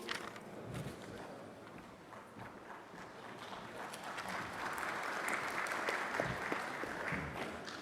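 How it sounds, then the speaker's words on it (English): Audience applause at the Africa Peace Symposium: a steady wash of many hands clapping from a hall crowd, building slightly louder toward the end and continuing without a break. "give it a bit of a round of applause"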